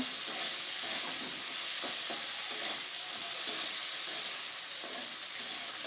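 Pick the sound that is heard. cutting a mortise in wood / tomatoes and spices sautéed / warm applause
tomatoes and spices sautéed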